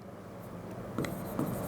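Marker or chalk strokes on a board during a science lesson, short scratchy strokes that grow louder near the end against a quiet room.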